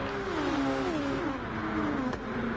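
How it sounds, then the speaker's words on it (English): Video game 2019 Formula 1 car engines drone steadily with a high turbo whine that slides gradually downward, a dense continuous mechanical hum with no talking. "You can hear the turbos whining and the little engines"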